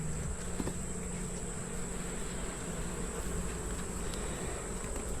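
Bees buzzing in an opened beehive during a hive inspection, a dense continuous hum of many insects close by at an even, moderate level throughout with no talking.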